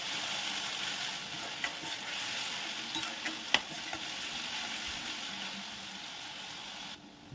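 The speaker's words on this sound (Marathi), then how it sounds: "कांदा चांगला गुलाबीसर होईपर्यंत आपल्याला परतून घ्यायचा आहे" Chopped onions, two medium ones, sautéing in a pan for dhaba-style palak paneer, a steady close sizzle with occasional stirring scrapes and a sharp clink, continuing without talk.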